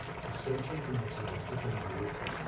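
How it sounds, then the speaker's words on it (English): Pot of food simmering on a stove, a soft, steady low bubbling and gurgling that stays faint and continuous throughout, with no voices over it. "so it's bubbling away"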